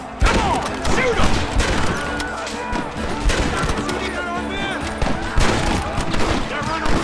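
Gunfire crackles through a Red Dead Redemption shootout, with rapid overlapping shots, thuds and ricochets loud and close for the whole stretch, mixed with shouting voices.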